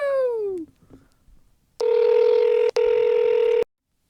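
Over a phone line during a call, a falling electronic tone fades out, then a ringback tone sounds in two long, loud, steady bursts separated by a brief gap before cutting off.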